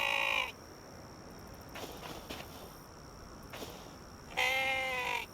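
Mouflon calls from the video game Hytale: two short harmonic bleats, one at the start and one near the end, with faint steps or rustles in between and no talking.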